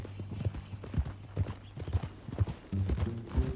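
Horse hooves clip-clop at a steady walking pace in Red Dead Redemption 2, with faint speech-like murmurs in the background and a brief rise in ambient level near the end.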